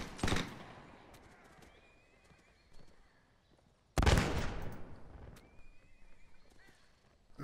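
Horse neighs twice in the Mount&Blade battle game, each whinny rising out of a loud burst of musket volley fire, with quieter background battle noise between the two blasts.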